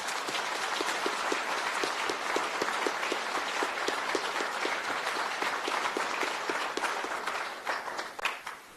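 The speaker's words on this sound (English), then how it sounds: "So please join me in thanking them in a round of very warm applause." Warm applause from an audience at a China–US business signing ceremony, a dense, steady roar of many hands clapping that holds for several seconds before thinning slightly at the end.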